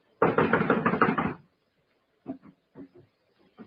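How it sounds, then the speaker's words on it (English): Knuckles rap on a locked wooden door in an old radio drama: a fast, loud flurry of knocks, then a pause and a few quieter, scattered taps. "I'm going to knock."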